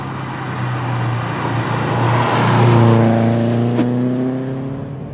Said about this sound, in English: The Subaru Flat 4 as well is such a distinctive engine.